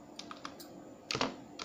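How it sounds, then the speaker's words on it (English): Someone types on a computer keyboard, quiet scattered key clicks followed by a brief flurry of louder taps, with no talking. "Here I am typing the normal link on that."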